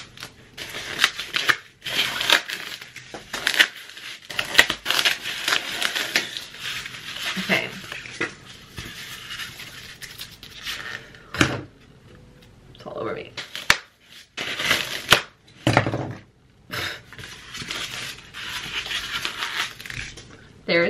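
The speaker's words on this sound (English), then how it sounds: "I'm gonna take this styrofoam ball and I'm gonna cut it and fit it over my head" Someone cuts a styrofoam ball to fit over a head, giving scratchy, squeaky cutting and rustling noises in irregular bursts, close by, while a person talks over much of it.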